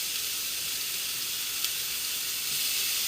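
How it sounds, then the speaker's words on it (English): Shrimp and minced garlic sautéing in a hot pan, a steady loud sizzle and hiss held evenly throughout with a tiny crackle partway. "we're going to let them saute, and we're going to add in some minced garlic as well"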